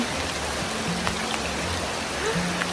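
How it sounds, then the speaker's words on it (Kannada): Heavy rain pours steadily in a dense, even wash of noise, with faint low tones and scattered drips underneath. "ಎಷ್ಟು ಜೋರು ಮಳೆ ಬರ್ತಾ ಇದೆ"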